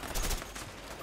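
A short burst of rapid gunfire in the video game A Way Out, a few quick muffled shots over a background rumble.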